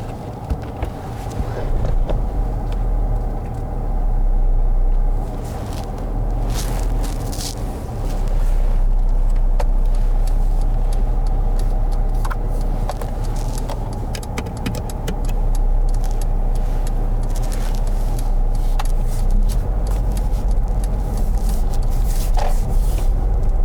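A car is driven on the road during a mock driving test in Croydon, with a steady low engine and road rumble inside the cabin, brief rattles and ticks, and a gentle swell as it pulls away.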